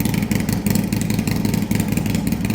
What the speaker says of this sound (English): We're gonna go ahead and shut the bike off.